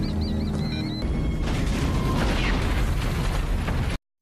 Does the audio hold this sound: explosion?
yes